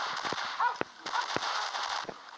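Gunfire in the Commando video game comes as sharp, spaced electronic shots and bursts over a constant buzzy game soundtrack, fairly quiet overall.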